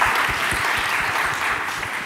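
Loud, close audience applause at the TiE Youth Inflect 2018 event: a dense, continuous roar of many people clapping that stays level throughout.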